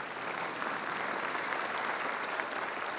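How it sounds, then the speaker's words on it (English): An audience claps steadily and fairly faintly throughout at the Greater Macon Chamber of Commerce State of the Community event, a dense even patter with no talk over it. "You clap."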